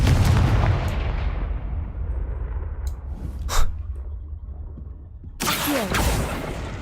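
A Confringo fire spell in Hogwarts Legacy goes off as a short whooshing blast in the middle, with a louder burst near the end, over a steady low game rumble and ambient background.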